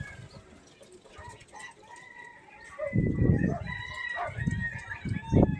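Turkey fowl calling among poultry, bursts of throaty gobbling and clucks alongside shrill bird calls, moderately near, with low background voices briefly present.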